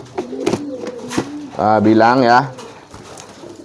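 Racing pigeons coo in a burst of rippling, throaty calls while feeding, rising loud for about a second mid-clip, with a person talking quietly before and after.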